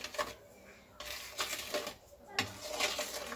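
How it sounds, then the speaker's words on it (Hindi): A spoon stirs eggless cake batter in a bowl, giving intermittent scraping and clinking strokes in short bursts, fairly quiet and close. "थोड़ी थोड़ी डाल के हम इसको अब चम्मच से घुमाएंगे"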